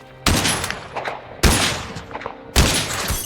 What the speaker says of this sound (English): and then came the gunfire.